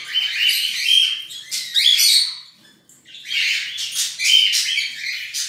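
A pink female Bourke's parakeet gives close, loud squawks and chirps in two bursts split by a short pause, with no voices.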